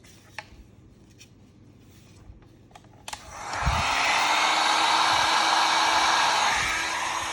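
A cheap ten-dollar heat gun switches on partway through and blows a steady, loud rush of hot air that holds to the end, after a few quiet clicks and handling taps near a sonic screwdriver prop being stripped down.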